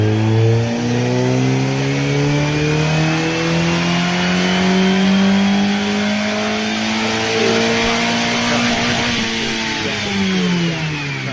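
A small race car engine on a dyno roars loudly and continuously, its pitch rising slowly as it revs higher, then easing back near the end.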